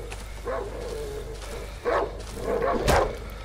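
A dog in the video game Dark Wood gives a few short, rough barks amid low ambient game noise, spaced out with the loudest burst near the end.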